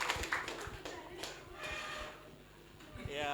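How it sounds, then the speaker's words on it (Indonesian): An audience at a religious moderation session in Blora claps briefly, a short patter of hand claps mixed with chatter and voices nearby. "tepuk tangan untuk kita semuanya"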